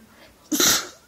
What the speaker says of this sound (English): Wow, that was a huge sneeze.